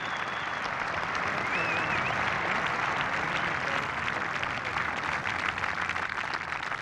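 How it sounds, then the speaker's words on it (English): A large Scottish crowd at Royal Troon golf course applauds golfer Lyle, a dense, continuous roar of clapping that holds steady throughout. "Lyle getting a huge reception from the Scottish crowd"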